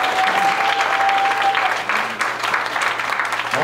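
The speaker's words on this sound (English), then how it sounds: "let's give a hand clap for all the ministers" Sustained audience applause for ministers during a night sermon, a dense steady wash of many hands clapping that holds throughout, with a faint tone beneath and no talk.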